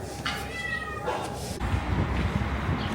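A cat on an Istanbul street gives a drawn-out meow and then a shorter one, close by, over steady outdoor street noise.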